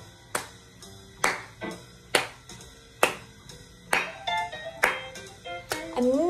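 Finger snaps keep a steady beat, seven or eight sharp, close clicks spaced about a second apart, with ringing bell-like pitched tones joining toward the end.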